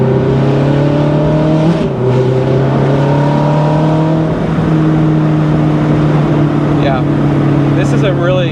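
A 2007 Ferrari F430 Spider drives along with a loud, steady engine drone, its pitch stepping down sharply at gear shifts, under continuous wind and road noise and someone talking over it.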